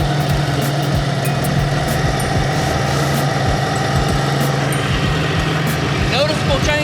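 Truck engine idling steadily with a loud, close, rhythmic pulse as a brake cleaner spray is used to check for an air leak, the engine RPM shifting slightly near the end.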